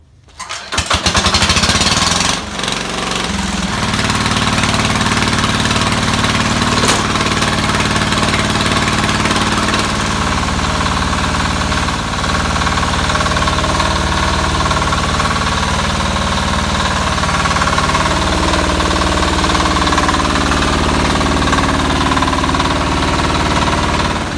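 A yard tractor engine that had been sitting a long time cranks and catches within the first couple of seconds, then settles into a loud, continuous, slightly rough running drone with no voices.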